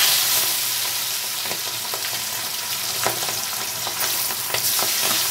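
Small boal fish pieces frying in hot oil in a pan give a loud, dense crackling sizzle throughout, broken by occasional sharper pops and spatters.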